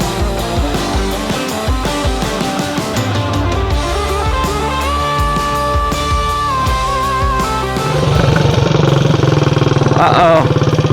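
A 1967 Triumph Mountain Cub motorcycle engine runs steadily throughout, growing louder toward the end, with speech-like sounds and other noise layered over it.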